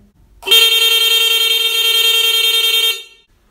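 A loud, steady electronic motorcycle horn blares alone for about two and a half seconds, then cuts off abruptly.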